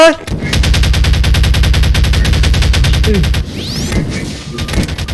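A futuristic gun in the video game Garry's Mod fires a long rapid automatic burst, loud and rhythmic, then stops for a few scattered electronic game effects.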